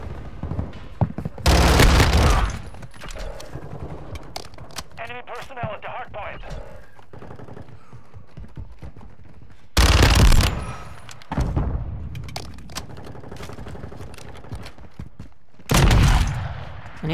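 Automatic gunfire in a shooter game comes in three loud, close bursts of rapid shots separated by quieter stretches of scattered distant shots and clatter.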